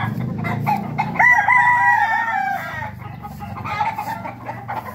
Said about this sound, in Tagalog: Mga manok dito sa Lucena